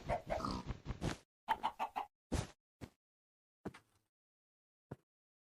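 Chickens in the Minecraft video game cluck in short bursts, a dense run of clucks followed by sparser, spaced single clucks that fade toward silence, close and clear with no talk.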